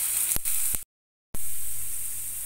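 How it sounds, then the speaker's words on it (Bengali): Potato pieces fry in hot oil with a bright, steady sizzle, loud and close, broken once by a brief silent gap before the crackle resumes. "আলুটা একটু লাল করে ভেজে নিতে হবে।"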